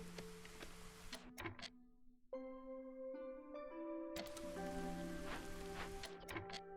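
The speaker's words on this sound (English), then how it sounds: "So drizzle again." Steady light drizzle in the game Against the Storm, a soft continuous patter under layered sustained musical tones and a few sharp ticking clicks.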